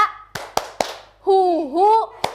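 Hands clap sharply in a quick rhythmic run during a morning classroom clapping game, four crisp claps, a pause filled by a chanting voice, then one more clap close by.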